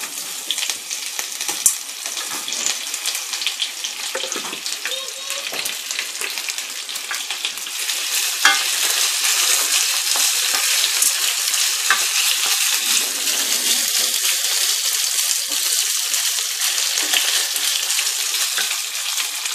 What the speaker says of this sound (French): Je rajoute les 3 oignons que j'ai hachés grossièrement.